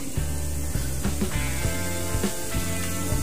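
Small perkedel patties frying in a home kitchen pan, giving a steady close crackling sizzle with soft pops and scraping clicks throughout, no voices.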